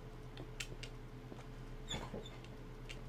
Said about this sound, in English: And there goes my dog in the background.